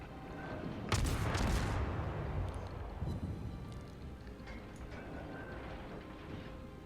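Naval guns on the destroyer Ognevoi firing in World of Warships: one loud, booming burst near the start, then a smaller shot and a fading rumble over low ambient noise.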